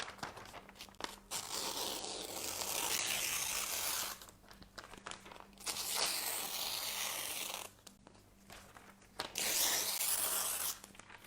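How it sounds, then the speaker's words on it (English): A piece of paper is ripped up in several long tearing bursts separated by short pauses, close and fairly clear with no talking. "You rip up that piece of paper with all your negatives in it."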